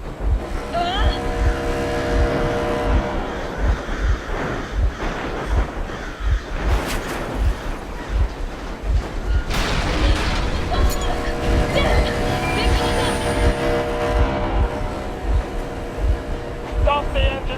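A vehicle engine runs in the Metro Exodus video game, a loud, steady rumble with a regular low chugging pulse, mixed with other game sounds.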